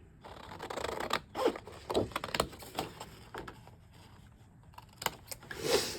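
Scissors snip through a paper birdhouse template, a series of close crisp cuts and rustling slides in an irregular rhythm, fairly quiet, with no talking.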